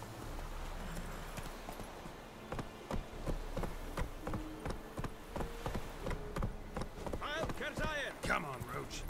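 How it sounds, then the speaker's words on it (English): Hooves clip-clop in a quick, even rhythm as a horse named Roach gallops in The Witcher 3, with faint ambient game sounds underneath and someone talking over it. "Go ahead to the horse now and hop on it."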